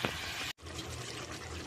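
Tamarind juice pours into a fish curry with brinjal, a brief liquid splash and trickle that breaks off for an instant and then continues as a steady pour.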